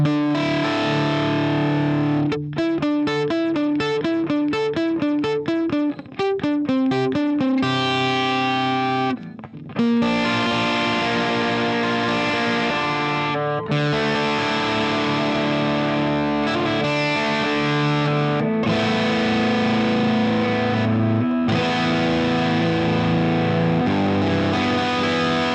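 Electric guitar played through a MojoTone Lerxst By-Tor boost and drive pedal, a loud, continuous distorted tone with fast picked notes at first, then sustained strummed chords with brief gaps between phrases.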